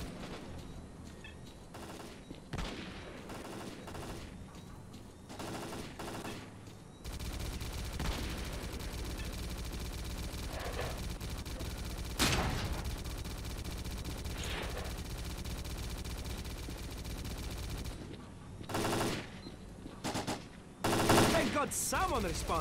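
Machine gun fire in the S.T.A.L.K.E.R.: Clear Sky game, with repeated bursts of gunfire scattered across the stretch, loudest near the middle and end, over a steady background of ambient noise.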